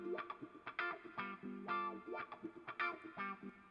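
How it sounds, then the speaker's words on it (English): Pro Tools track processed through a Deverb reverb plugin with the mix at about 40%, heard as a series of short, punchy musical notes and chords with a smeared, echoing tail, moderately loud with no talking. "And now we have reverb on the track."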